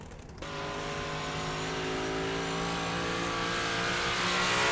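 Modified race cars roar on a track in a dense, steady engine drone that swells after a brief quieter start, several motors blending into one loud sustained whine.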